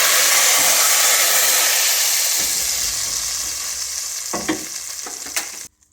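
Garlic and julienne-cut green chillies temper in hot oil for dal, giving a loud, steady, close sizzle that fades slightly before cutting off abruptly.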